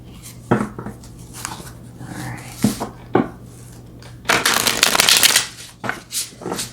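Tarot cards are handled with sharp flicks and snaps, then riffled in a loud, dense burst of shuffling near the end. The sounds are close, with a low steady hum underneath.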